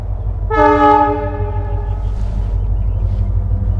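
A passing train sounds one loud, close horn blast lasting about a second, then rumbles on steadily beneath it with a faint rail clatter and no voices.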